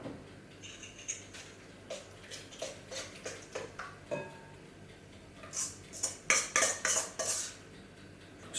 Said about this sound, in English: So using your rubber spatula, you will fold your chocolate and butter mixture